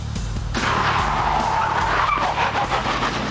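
A stunt car skids hard in a chase for the TV police drama The Bill on London streets; a sudden loud tyre screech bursts in and sweeps on for about three seconds, close and alone.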